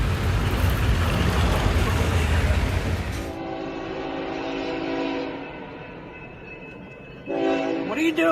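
A train caught in cables in Paraná, heard first as a loud close rumble that gives way to a long sustained horn blast, fading, then another sharp horn burst at the end.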